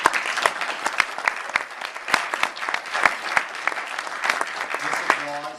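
Steady audience applause after a conference announcement at a health agency event, with dense, close clapping running throughout and a voice coming in near the end.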